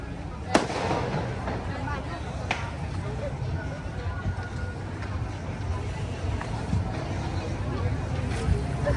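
Scattered distant fireworks bangs at the Loy Krathong festival in Chiang Mai, Thailand, a few sharp pops spaced apart, over crowd chatter and outdoor background noise near water.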